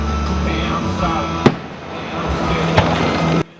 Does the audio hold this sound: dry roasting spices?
no